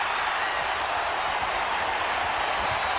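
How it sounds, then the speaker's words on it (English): Dense, steady roar of a packed arena crowd at a 1997 NBA playoff basketball game between the Seattle SuperSonics and Houston Rockets, loud and continuous with no breaks for the full few seconds. "I hope you get a sense of the noise of this crowd on television. It's incredible."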